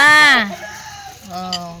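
Chickens call loudly up close, with a strong drawn-out cry at the start and a second clucking call toward the end.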